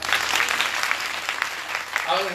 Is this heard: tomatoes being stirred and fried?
no